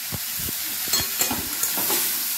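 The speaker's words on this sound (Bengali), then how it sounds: "সেই ম্যারিনেট করা ফুলকপিটা দিয়ে দিচ্ছি" Yogurt-marinated cauliflower dropped into a hot pan for a vegetarian dish, giving a loud, steady sizzling hiss with bursts of crackle and spatter as the pieces land and settle.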